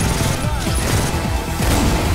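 Sniper gunfire in the video game Killing Floor, a loud, dense stretch of rapid blasts and crashing impacts running continuously throughout.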